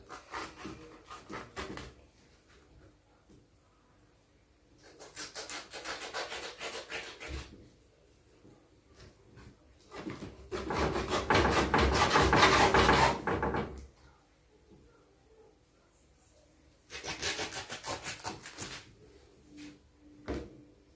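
A knife saws through tough pig ears into pieces, giving several bursts of coarse rasping and scraping strokes separated by quiet pauses, close up in a kitchen.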